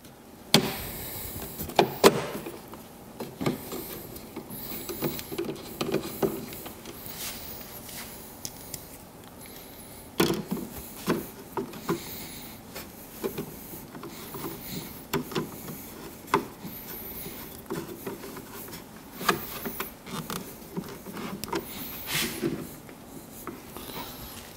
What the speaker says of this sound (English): I'm just starting each screw, making sure as I do it that the grill is still in the correct placement.